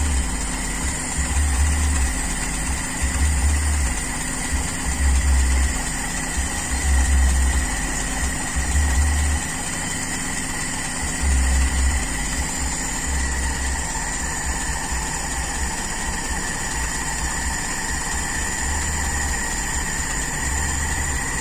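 A Toyota Kijang Super carburetor engine idles at low RPM, a steady close mid-pitched drone with a faint rhythmic low pulsing and no voices over it.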